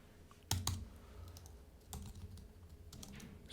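Code is typed on a computer keyboard in short, soft clusters of key clicks with pauses between bursts, close and quiet against a faint background.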